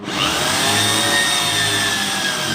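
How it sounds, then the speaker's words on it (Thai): A power drill bores into a house door being refitted to keep out animals and insects, producing a loud, continuous whirring grind with a steady high whine and no talking. "แล้วก็มาทำการเจาะนะครับ โดยใช้สว่านเจาะ"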